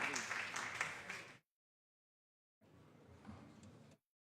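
Applause in a state Senate chamber during a floor session, a short burst of clapping that stops abruptly, then a second, quieter stretch of clapping after a pause.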